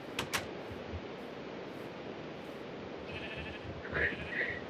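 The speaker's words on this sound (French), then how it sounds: "Oh, mouton." A sheep bleats in Minecraft, a couple of short wavering calls near the end over a steady low background hum, with a few clicks early on and no talking.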